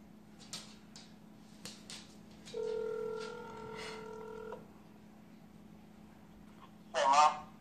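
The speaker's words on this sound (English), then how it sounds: "I'm putting on speakerphone and everything, so hopefully you can hear. I'm calling right now." A phone call on speakerphone: a few faint clicks, then a steady electronic ringback tone for about two seconds, quiet room noise, and a short louder burst near the end.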